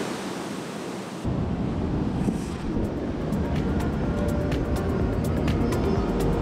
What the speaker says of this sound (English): There's the waterfall right there.